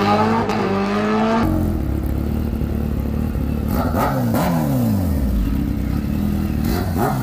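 Loud, up-close revving of a Kawasaki H2R motorcycle's 998cc inline four-cylinder engine, rising and falling in repeated throttle blips with a snarling, sweeping pitch and no talk over it.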